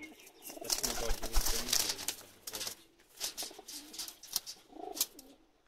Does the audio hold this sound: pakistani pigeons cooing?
yes